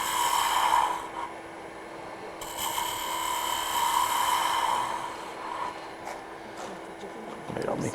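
A bowl gouge cuts into wood spinning on a lathe, giving a steady scraping, whirring tone that swells and eases over several seconds with a brief fresh cut near the end, fairly close and loud with no talk over it.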